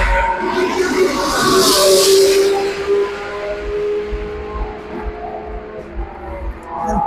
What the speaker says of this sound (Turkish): Şimdi araçlar geçerken benim sesimi bastırır.